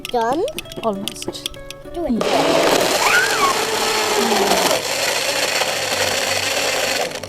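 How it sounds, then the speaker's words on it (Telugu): Strawberries, raspberries, peach, water and ice cubes are pulped in a blender, a loud steady grinding whir that starts after about two seconds of a voice talking and runs to the end. "strawberry raspberry peach and then water ice cubes పెట్టి ఇలా పల్ప్ చేసుకున్నాను"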